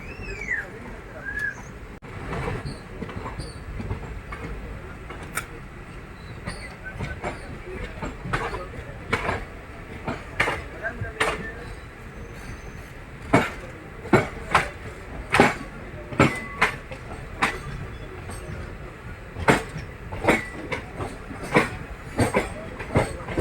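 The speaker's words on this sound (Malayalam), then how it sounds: "മാംഗ്ലൂർ ട്രിവാൻഡ്രം സെൻറ്ററിൽ പോകുന്ന മലബാർ എക്സ്പ്രസ് ആണ് അത് പോകുന്നത് കേട്ടോ" The Malabar Express from Mangalore to Trivandrum rolls past near Mangalore Central railway station, its steady rumble broken by a long run of sharp, regular wheel clacks over rail joints. A bird calls faintly at the start.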